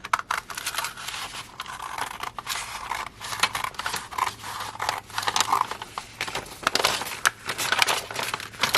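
Scissors snip through paper for a junk journal in repeated close, crisp cuts, with rustling and crinkling between the strokes and no speech.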